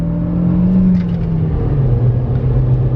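An Audi 1.8 turbo all-wheel-drive car driving along, heard from inside as a steady, loud low engine drone and road rumble that holds without a break, with no voices.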